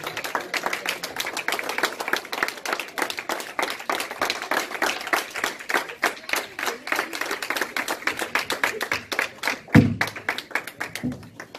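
Scattered clapping from a church congregation for Reverend Minani, a patter of individual claps that thins out toward the end, with a couple of louder isolated claps near the close.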